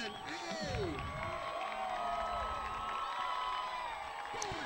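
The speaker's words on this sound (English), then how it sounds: "Crowd's going crazy." A football stadium crowd at a high school game cheers and roars continuously, with whoops and shouts forming a steady, loud wall of noise and a commentator's voice running over it.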